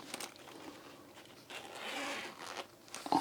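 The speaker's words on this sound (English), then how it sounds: "And then you've got little two zips" Zips on the soft padded protective bag of a Maxoak K2 50000mAh power bank being pulled, a close, fairly quiet run of rasping zipper strokes lasting a few seconds.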